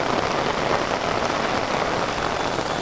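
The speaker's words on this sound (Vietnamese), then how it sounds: "hiện tại đang mưa rất là to luôn các bác" Heavy rain pours down in the early evening at a house during flooding, a dense, steady hiss with no letup and no voices.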